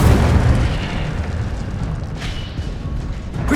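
A fire spell erupts in the Hogwarts Legacy video game, making a sustained roaring, booming burst of flame that holds steady throughout and swells again at the end, with no talking.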